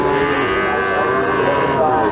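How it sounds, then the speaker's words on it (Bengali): A calf moos loudly and steadily among other livestock at the Dhaper Hat cattle market, a drawn-out bovine call that holds throughout amid busy market noise. "অনেক স্বাস্থ্যবান গ্রোথফুল বাছুর"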